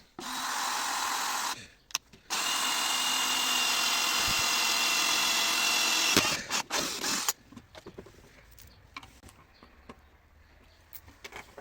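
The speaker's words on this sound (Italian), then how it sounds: "una volta scelta la punta opportuna andremo a fare dei buchi sulla parte inferiore del" A drill bores holes into the bottom of a jar, two loud sustained whirring bursts close up, followed by quieter handling clatter and rubbing.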